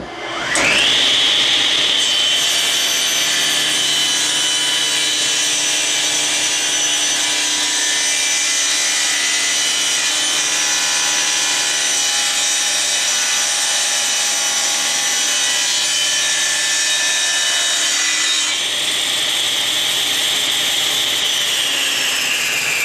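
A saw blade spins up to a loud, steady whine as it trims a laminated wood turning blank, cutting continuously for about sixteen seconds before the motor cuts off and the blade winds down.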